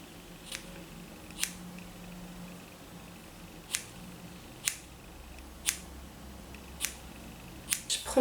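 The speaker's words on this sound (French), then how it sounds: "je vais simplement couper dans le tas en fait, comme ça. J'essaie de couper en biais hein" Scissors snipping through hair at an angle during a self-cut, about nine sharp, separate snips spaced irregularly over quiet room tone, close to the ear.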